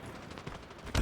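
Gunfire in Call of Duty Mobile crackles as a dense, rapid burst of shots, ending in a louder, heavier blast right at the close.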